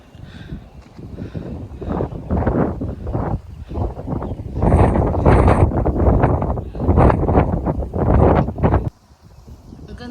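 Gusty wind on a hiking trail near Lok Ma Chau roars and buffets the microphone in uneven waves, swelling loudly mid-way, with faint rustling beneath and no clear speech.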